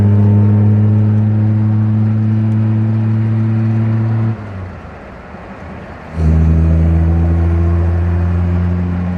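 A 1952 Jaguar that once averaged 100 mph for a week lets out a deep, loud, steady bellow. The sound drops away briefly, then returns just as strongly.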